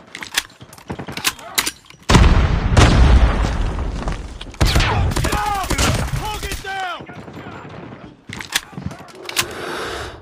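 A frag grenade explodes amid rapid gunfire in a Call of Duty Mobile ranked multiplayer match, with loud bursts, booms and sharp shots packed together, broken by short quieter gaps and game voice callouts.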